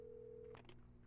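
Telephone dialing in the video game Alan Wake: a steady tone holds for about half a second, then a short burst of keypad dial tones follows, heard alone and fairly faint with no talking.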